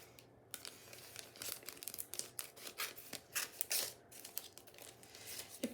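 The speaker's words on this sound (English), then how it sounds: "So I'm just going to cut this open." Scissors cutting open crinkly plastic packaging holding old camera filter holders, with close, quiet snips and irregular crackling rustles of the plastic.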